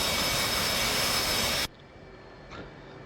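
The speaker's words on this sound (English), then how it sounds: "This is the F-18C Hornet." An F/A-18C Hornet jet engine in the flight sim DCS roars as a loud broadband rush, then cuts abruptly to a quieter steady whine and hum.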